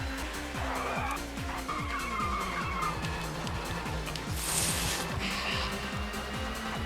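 A touring race car in the TOCA Touring Car Championship video game skids and spins off the track. Tires squeal over a steady engine drone with repeated revving sweeps, loud and continuous with no voices.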